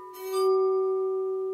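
A struck glass rings out with a bright, clear tone that sustains steadily after a brief clinking attack, played as an instrument in a quiet setting.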